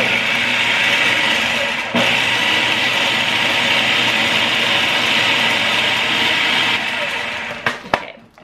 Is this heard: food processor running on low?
yes